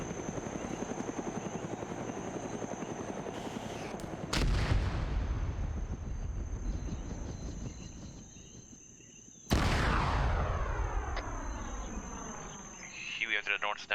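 Sharp, loud gunshot bursts crack out in a video game over a constant droning helicopter hum, with a few scattered shots near the end.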